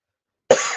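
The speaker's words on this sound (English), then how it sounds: "Still trying to shake this cough" A single sharp cough from a man with a lingering cough, bursting abruptly out of silence, close and loud, with a short rasp trailing after it.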